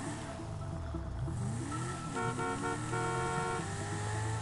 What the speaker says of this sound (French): Hop, on klaxonne.